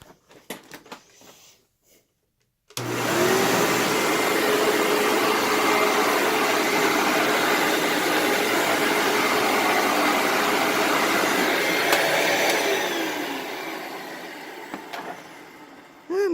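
A Hoover WindTunnel self-propelled upright vacuum cleaner switches on after a brief quiet start and runs with a steady loud whirring roar for about ten seconds, then winds down.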